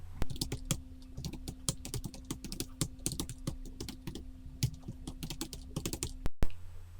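Rapid typing on a computer keyboard while filling in a chart in PowerPoint, a steady fast stream of close, crisp keystrokes with no talking, ending in a brief silence.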